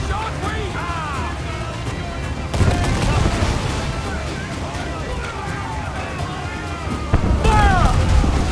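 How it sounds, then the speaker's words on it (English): Ship cannons boom in broadside volleys during an Assassin's Creed IV Black Flag naval battle, heavy repeated blasts amid wind, sea noise and shouting crew voices, with bursts swelling loudest at the start and near the end. "Fire! Unload all the shot we have!"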